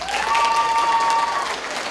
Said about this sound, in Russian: надо очень широко улыбнуться и послушать аплодисменты